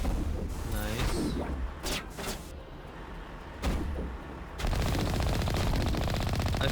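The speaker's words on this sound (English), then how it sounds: "I feel like the machine gun is a bit more humane than the cannon." Machine gun fire in the video game Mass Effect, rapid loud bursts broken by pauses, then a sustained stream of fire, with other game sounds mixed in.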